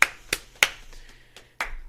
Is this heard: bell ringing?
no